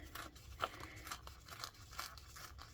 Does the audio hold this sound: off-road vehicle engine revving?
no